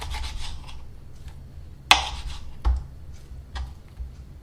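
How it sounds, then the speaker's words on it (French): A knife works between the two bones of a chicken leg joint, making a few soft rubbing and scraping strokes punctuated by one sharp crack-like snap and a couple of lighter clicks. "Il suffit de passer le couteau entre les 2 os."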